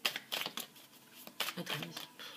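Tarot cards shuffled and flicked by hand, a series of soft papery riffles and snaps in quick irregular bursts, close and fairly quiet, with a hint of a voice underneath.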